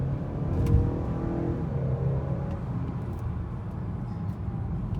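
From inside a 2018 Honda Accord Sport with its 2.0-liter turbo engine, a low rumbling engine note climbs and swells as the car accelerates, heard over steady road noise and moderately loud.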